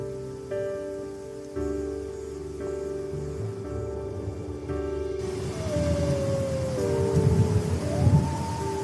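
A cartoon storm: heavy rain with rumbling thunder comes in loudly about halfway through, replacing soft musical tones, with a rising and falling whistling wind line above the downpour.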